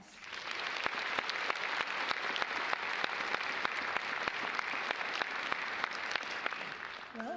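Audience applause at a university commencement ceremony, a sustained even wash of clapping with a few distinct nearby claps, heard from a distance at low level, with no one speaking.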